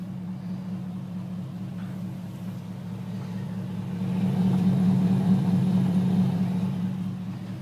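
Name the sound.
2004 Hummer H2 engine running on bad gas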